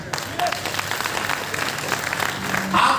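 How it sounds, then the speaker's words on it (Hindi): Audience applause at an Agra business seminar, a steady wash of clapping from a crowded hall lasting throughout, with some voices mixed in. "आपने ताली बजाई"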